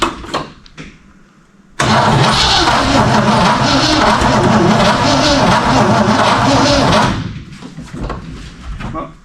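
Original 1969 Chevy C10 truck, parked for over 20 years, started late at night: a few faint clicks, then the engine bursts into a loud, steady roar for about five seconds before cutting off abruptly.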